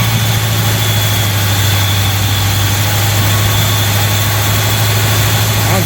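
A 1970 Chevy C-20 pickup engine idles steadily, a close, even low rumble with a constant hum and no change in pace, running quietly on its own without voices.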